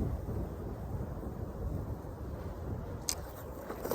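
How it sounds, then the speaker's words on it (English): Strong wind buffets the microphone on a windy day out fishing, a dense, continuous low roar and rumble filling the whole stretch with no talk. "That's how windy it is."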